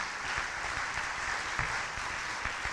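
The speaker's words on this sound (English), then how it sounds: "let's give one more round of applause for all of our winners" A crowd applauds steadily at a university athletics hall of fame awards ceremony, a dense wash of clapping that holds at an even, moderate level throughout without any voices.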